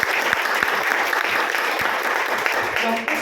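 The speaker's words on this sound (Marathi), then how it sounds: "ज्यांच्यासाठी खरोखर एकदा मनापासून टाळ्या झाल्या पाहिजे" A crowd applauds loudly at a women's day gathering in Majalgaon, dense continuous clapping filling the room for several seconds, with a voice audible underneath.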